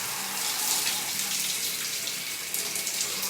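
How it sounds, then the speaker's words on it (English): Cold shower water streaming and splashing over a person's body, a steady close broadband hiss and patter with small surges, continuous and alone without talk. "you want to make sure that you're bringing the water to the front of your body, over your back."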